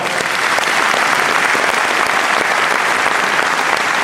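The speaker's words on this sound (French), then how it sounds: "vous pouvez l'applaudir très fort" A crowd at a Vendée cycling presentation evening applauds a rider loudly and continuously, a thick, steady wash of clapping with no pause.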